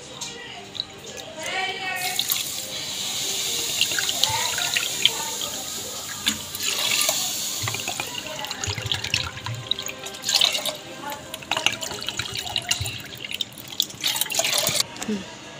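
Water is poured into broken wheat (dalia) for pulao, a steady running, splashing pour at close range with some dripping, while a voice talks over part of it.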